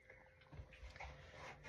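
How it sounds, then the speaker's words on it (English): Dog whimpering indoors, faint, soft whiny cries and breathy sounds close by over a low room hum, with no talking. "That was the dog."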